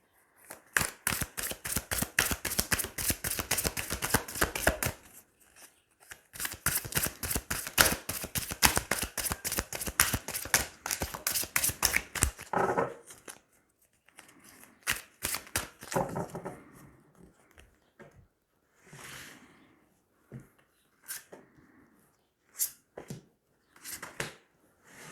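Tarot cards riffle in quick, dense flutters during two shuffles. Softer scattered flicks and slides follow as cards are drawn and laid down, all close and fairly quiet.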